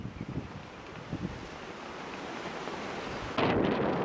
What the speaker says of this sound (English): On the way back with the wind blowing strongly,